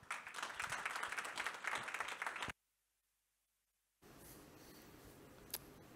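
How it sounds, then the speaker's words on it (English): Audience applause at a CyberChess 2025 cybersecurity conference session welcoming a speaker on stage; dense, loud clapping for about two and a half seconds, then abrupt silence, followed by quieter room noise. "So welcome him on stage with an applause"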